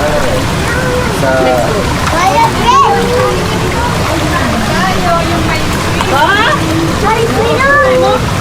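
Residents bathe in a cold river in the Hungduan, Ifugao rice terraces, with continuous splashing and rushing water under lively chatter and children's voices nearby.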